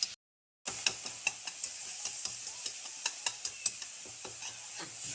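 Mango pieces being mashed in a pan for mango payasam, a steady series of soft rhythmic taps and squelches, close and fairly quiet after a brief silence.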